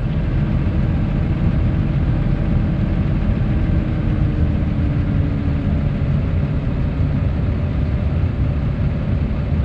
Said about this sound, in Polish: Zwiększają się obroty silnika.